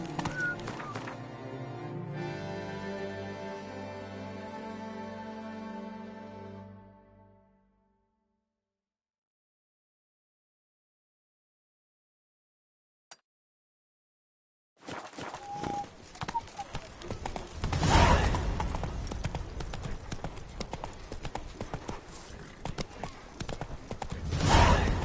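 Geralt's horse Roach clops along in The Witcher 3, with hoofbeats loud at the start. The sound fades into a long stretch of silence, then returns under a dense wash of game noise and crowd-like sound.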